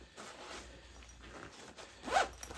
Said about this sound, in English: Got a 2-piece belt bag, little zipper on the one end